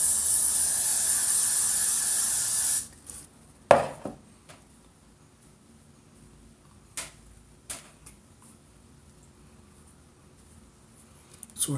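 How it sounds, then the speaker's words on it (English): Aerosol hairspray hisses in one steady, loud burst while styling pageant hair, then cuts off abruptly, leaving a quiet room with a few faint taps and clicks. "I'm going to spray it down."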